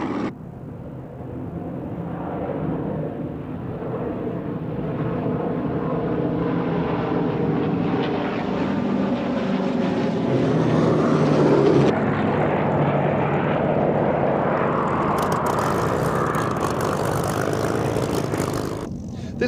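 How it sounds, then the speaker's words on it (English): A Boeing B-17 Flying Fortress at an airshow drones overhead on its piston engines, a loud, steady propeller roar that swells and holds for the whole stretch with no talk over it. "This Boeing B-17 Fortress is one of two in Europe."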